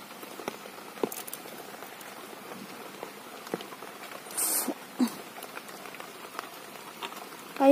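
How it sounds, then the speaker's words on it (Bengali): Heavy rain falling outdoors in a vegetable garden makes a soft, steady patter with scattered louder drips and a few brief bursts, fairly faint overall. "প্রচুর বৃষ্টি হচ্ছে"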